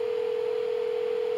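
A steady telephone dial tone holds unbroken as someone gets ready to place a call, loud and close with no voices over it.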